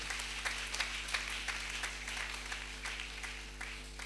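Church congregation applauding during a worship service, steady rhythmic clapping from many people in a hall, moderately loud over a low constant hum.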